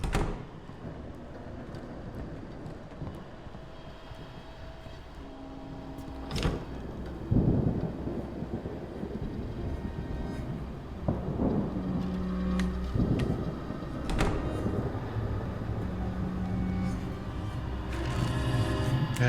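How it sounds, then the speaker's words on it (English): Thunder rumbles with steady rain during a severe storm in the horror video game Static Dread, a continuous wash of rainfall broken by several louder thunder rolls and crashes. "The severe storm is approaching."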